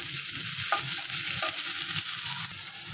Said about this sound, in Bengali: এখানে এই যে পেঁয়াজ রসুন মরিচ দিয়ে চিংড়ি মাছ দিয়ে কষায় নিচ্ছি